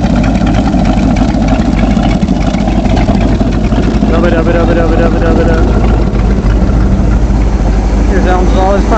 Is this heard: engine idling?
yes